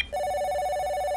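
A telephone rings loudly with a steady, bright electronic tone that holds without a break, close and alone.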